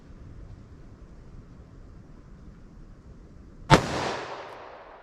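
A 2-inch snub-nose revolver fires a single Speer Gold Dot short-barrel round: one loud, sharp crack out of a quiet background, followed by a ringing decay that fades over about a second.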